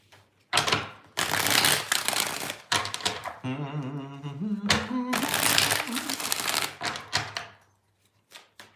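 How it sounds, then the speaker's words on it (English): Tarot cards are shuffled in repeated bursts of riffling and rustling, with a short stretch of a tonal, hum-like voice between them and quieter card handling at the end. "Let's get 5 shuffles."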